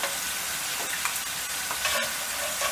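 Potatoes frying in hot oil crackle and sizzle continuously at close range, a dense bubbling hiss with small popping bursts, no voices.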